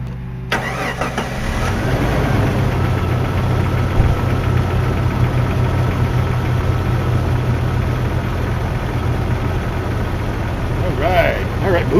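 A Jeep ZJ with the 4.0L engine starts and settles into a steady idle with a light tapping running through it, loud and continuous from about half a second on, with a voice talking over it.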